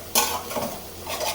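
Meat masala, cumin, turmeric, chili and coriander powders sautéed in a pot, heard as a quick clatter of a spoon scraping and knocking the pot over a light sizzle.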